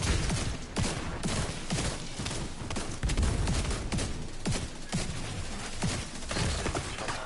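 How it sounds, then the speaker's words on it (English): Bursts of gunfire in The Division 2 video game, a dense, loud run of close shots and cracks stacked over constant battle noise, with sharper spikes throughout. "You might not want to get in my way when I'm shooting."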